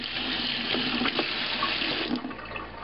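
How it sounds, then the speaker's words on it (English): A sink tap runs steadily as an iPhone in a LifeProof waterproof case is rinsed under it, a continuous splashing stream with a few brief changes in the flow and no speech. "take it over to the sink, rinse it off,"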